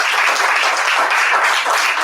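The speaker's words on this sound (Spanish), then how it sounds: "darles un muy cariñoso aplauso" Steady applause from an audience at a book presentation in a bookshop, dense even clapping throughout, loud and continuous with no talk.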